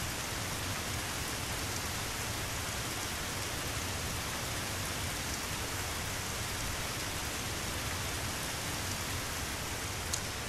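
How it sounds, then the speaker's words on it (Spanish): Steady rain falls in the video game Dig or Die, a dense, even hiss that holds at constant loudness with no pauses. "Fijaos cómo vuelve a llover otra vez."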